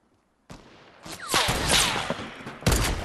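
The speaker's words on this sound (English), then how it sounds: "That's why they just keep shooting at us." A burst of enemy gunfire erupts in a Fortnite Battle Royale match after a short silence: rapid overlapping shots and sharp cracks, loud and close, with a final heavy blast near the end.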